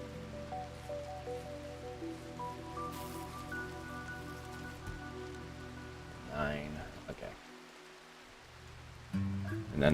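Steady rain falls throughout a RimWorld colony scene, an even wash of patter with a calmer stretch before a brief louder burst near the end, over sustained low tones.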